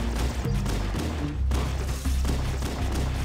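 Grenade blasts boom in Halo: Combat Evolved amid heavy rolling gunfire, loud and dense, with deep thumps landing in quick succession.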